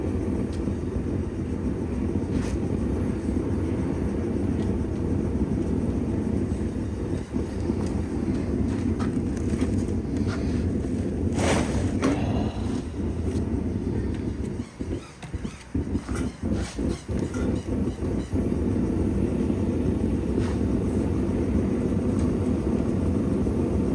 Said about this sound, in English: this wind is not helping me today